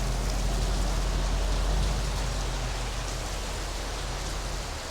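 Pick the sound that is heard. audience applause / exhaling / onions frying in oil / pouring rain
pouring rain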